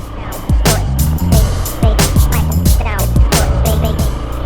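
A Hero Xpulse 200 BS6 motorcycle ridden off-road, its engine surging in repeated loud close revving bursts roughly every half second as the rider works the throttle over rough ground.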